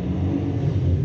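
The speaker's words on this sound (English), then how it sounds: "So you hear the intake." Steady, loud low-pitched engine drone with a throaty rumble from the intake of a Mitsubishi Lancer Evolution X with an AMS intake and HKS blow-off valve, holding constant for about a second with no talking.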